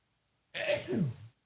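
One sharp, loud sneeze close up, a quick intake followed by an explosive burst, with silence before and after.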